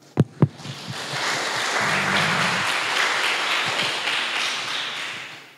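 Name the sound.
audience applause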